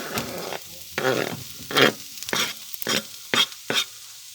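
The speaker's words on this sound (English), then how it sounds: "We cook that for around about a couple of minutes, releasing the oil from the chorizo" Chopped chorizo frying with softened, browning onions in a pan for a cod and chorizo stew, heard as separate close bursts of sizzling and spatula scraping between quiet gaps, with no one talking.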